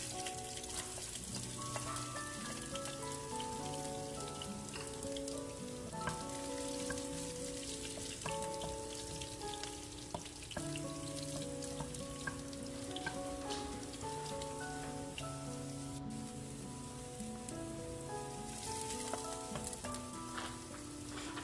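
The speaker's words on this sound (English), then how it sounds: "we start by sauteing the garlic" Garlic sautés in a pan as the base for a sweet and sour sauce for fish escabeche, giving a steady, close crackling sizzle throughout under continuous background music.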